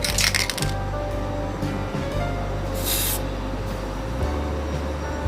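Spray paint from an aerosol can sprayed directly, a hissing burst heard clearly amid a steady low background hum, short and fairly close.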